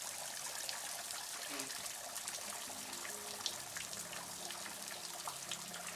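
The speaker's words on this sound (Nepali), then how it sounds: "टक्करको जराबाट पानी खसिरहेको छ यहाँ माथि।" Water trickles steadily from tree roots along a forest trail between Phidim and Taplejung, a soft continuous dribble with faint patter, no voices.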